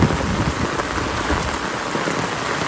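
Heavy rain pours steadily outdoors beside an overflowing stream, a loud, dense, even hiss of drops with no pauses and no voices.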